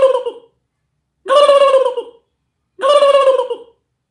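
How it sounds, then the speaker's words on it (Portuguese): A turkey gobbles three times, each a loud, close, warbling burst of about a second separated by silence, with no voices. "É um peru que faz blu, blu, blu, blu, blu."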